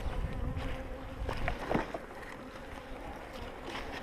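Honeybees in an opened spring hive, a yellow hive numbered 38, hum steadily as frames are handled, with a few brief louder buzzes from bees flying close.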